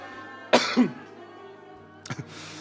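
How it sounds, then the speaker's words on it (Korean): A person coughs twice close by during a church service, with a throat-clearing sound, then another short burst of coughing about a second and a half later. "저만 기침을 하는 게 아니어서 같이 할 수 있어서 또 힘이 됩니다"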